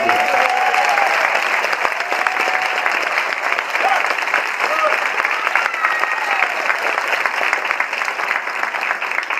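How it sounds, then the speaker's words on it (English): Sustained audience applause fills a school academic celebration at Whitehaven High School, a dense, steady clapping from a large crowd that runs evenly for the whole stretch, with some cheering and voices mixed in. "give him a big round of applause"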